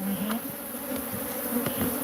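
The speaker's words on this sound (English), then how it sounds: "Smug killer bees." Killer bees swarm around a prickly pear cactus outdoors, a steady close droning buzz with several individual insects swelling louder as they pass, no voices.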